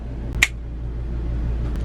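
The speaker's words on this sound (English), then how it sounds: "All I have to do is snap my fingers" A single sharp finger snap near the start, close and crisp, followed by a low steady background hum and otherwise quiet.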